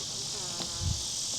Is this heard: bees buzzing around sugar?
yes